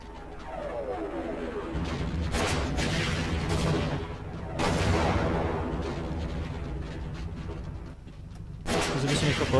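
Gunfire in the video game Half-Life: heavy booming shots and blasts fire in bursts across the clip, each with a loud attack and a long rumbling tail, over dense game noise.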